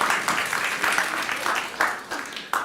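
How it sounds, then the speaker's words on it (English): Audience applause at a public talk on walkable city planning in Portsmouth, a brief burst of clapping with a few sharper peaks, fairly close and steady before fading. "Clap, clap."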